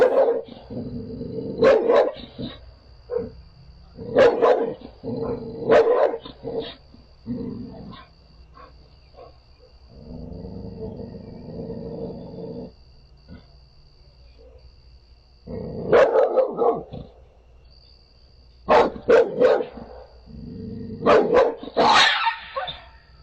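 Dog barking in loud bursts of several sharp barks, separated by pauses and a stretch of lower rumbling noise, close to the microphone and with no talking.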